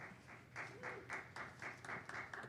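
Audience applause at a school board meeting, a steady patter of many hands clapping in repeated bursts at moderate distance, fairly faint, with a few murmured voices underneath.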